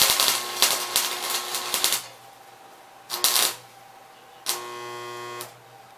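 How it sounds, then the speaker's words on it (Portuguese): Stick welding with a 6010 electrode on a transformer welder at around 200 amps: bursts of harsh crackling buzz, a two-second run then two shorter strikes, over a steady mains hum. "Vou usar esse eletrodo, o 6010, que a outra sem retificar não conseguimos soldar."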